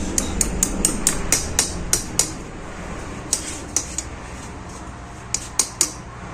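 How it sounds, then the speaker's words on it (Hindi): A rocker pin is tapped into a Hero Splendor bike engine with a hammer. Sharp metallic strikes come close up in two quick rhythmic runs of about a dozen and half a dozen hits, with no talk. "पिन को सेंटर में रखिएगा और इस तरीके से ठोक मार लीजिएगा"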